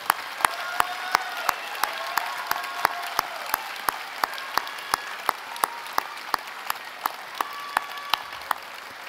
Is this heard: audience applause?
yes